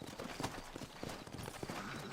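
Horses clip-clopping in the Red Dead Redemption video game, a steady run of close, loud hoof strikes on hard ground with a brief snort or whinny in the mix.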